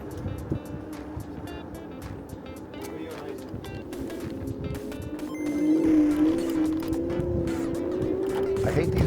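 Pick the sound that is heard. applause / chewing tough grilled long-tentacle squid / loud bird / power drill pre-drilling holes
loud bird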